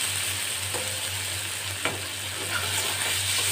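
Onions and tomato fry in a pan while being stirred, giving a steady close sizzle broken by a few brief scrapes of the spoon, with no talking.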